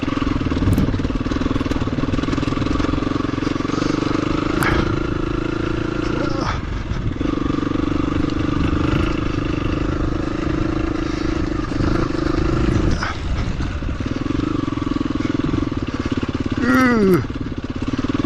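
A motorcycle rides a muddy, rutted green lane in Oxfordshire or Wiltshire, its engine droning steadily and close throughout with slight changes in pitch, while a rider talks now and then over it.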